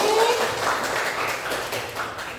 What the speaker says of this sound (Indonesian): Tepuk tangan untuk 4 kelompok masing-masing.